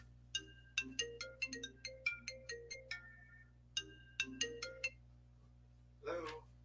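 A mobile phone ringtone plays two rounds of bright, repeating melodic beeps, fairly faint in the room, followed by a short burst of a voice.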